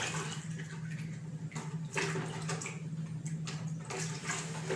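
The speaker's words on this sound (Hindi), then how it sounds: "इस ग्लास में एक पानी ले लेता हूँ" Water runs from a container into a drinking glass for a simple science demonstration, a steady trickling splash held at close range with no talking over it.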